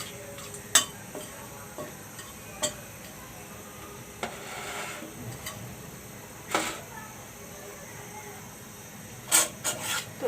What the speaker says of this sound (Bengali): তেজপাতাটা একটু ভেজে নিচ্ছি কারণ এখানে ঘ্রানটা ভালো হবে